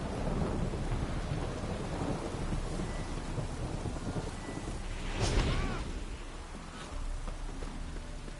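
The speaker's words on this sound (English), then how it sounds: "A storm, damn it." A thunderstorm in the video game The Witcher brings heavy, constant rain hiss under a low roll of thunder that swells to a louder crack midway, then eases back into steady downpour.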